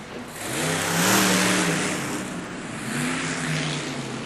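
A Traxxas T-Maxx monster truck at a Monster Jam event in Detroit revs its engine in two loud, rising surges, with roaring crowd and arena wash around it.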